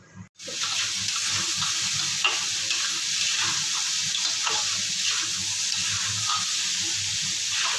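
Poppy seeds fry in a pan with a dense, continuous close-up sizzle that starts abruptly and holds level, with faint scraping of stirring underneath.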